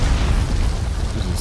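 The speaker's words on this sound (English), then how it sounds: "Like that grenade." A grenade explodes in the Dune video game, set on Arrakis during closed beta play: a loud, sustained low rumble with a dense roar that holds steady for over a second, with no talking.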